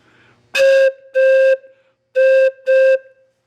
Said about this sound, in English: And that's the whistle.